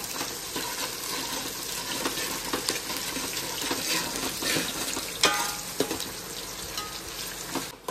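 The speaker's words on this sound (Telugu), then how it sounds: "ఇవి కూడా మనం మిరపకాయలు అయితే వేద్దాం. బాగా మిక్స్ చేసేద్దాం." Chillies and onions are stirred in a hot pot for chicken biryani, giving a continuous crackling sizzle with repeated spoon scrapes and clinks against the metal, close and moderately loud.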